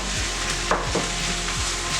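Minced beef for a shepherd's pie frying in a pan, a dense continuous sizzle with a few soft scrapes as it is stirred in, close and steady, no talking.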